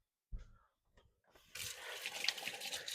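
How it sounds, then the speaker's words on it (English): A kitchen tap runs while hands are washed at a sink during burger preparation, starting with a few faint clunks and then a steady close hiss of flowing water. "Gotta wash my hands."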